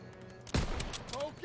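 A single loud, close gunshot in the Call of Duty WWII remastered campaign, with a sharp boom followed by a ringing, reverberant tail over quieter battle ambience.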